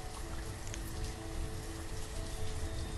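Heavy rain pours in the village-building game Banished, a dense, continuous hiss of drops hitting surfaces at an even, steady loudness.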